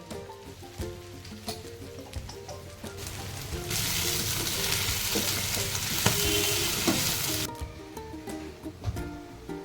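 Chicken fry with turmeric and masala stirred in a hot pan, a steady sizzle with scraping spoon strokes and louder frying bursts in the middle.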